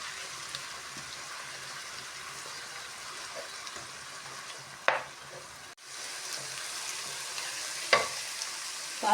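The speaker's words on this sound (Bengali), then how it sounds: "ভালো করে ভেজে নেব পেঁয়াজগুলো ভালো করে ভেজে নেব।" Onion paste frying in a pan for chicken masala, a soft steady sizzle running throughout with a few brief clinks and one short dip partway through, no voices.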